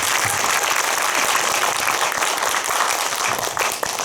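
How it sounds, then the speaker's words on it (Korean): A cinema audience at a post-screening talk applauds in a sustained, even wash of clapping lasting several seconds, full and close in the room. "오늘의 모더레이터 배우 김남규 씨께 박수 한번 부탁드리겠습니다."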